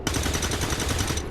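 A short automatic burst of gunfire in the tactical game XCOM 2, rapid evenly spaced shots running for just over a second and then cutting off, moderately quiet.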